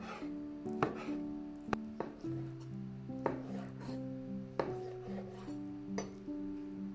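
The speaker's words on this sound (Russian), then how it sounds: "И теперь полоски нарезаю на маленькие кусочки, на маленькие кубики." A knife on a cutting board chopping chicken breast strips into small cubes in a home kitchen, a series of sharp, irregular taps under a faint steady hum, with no talking.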